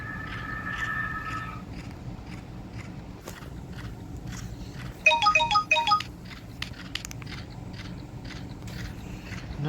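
A phone ringtone plays loudly, opening with a sustained electronic tone, then a quick burst of bright melodic notes after a brief pause, with scattered clicks and soft background noise.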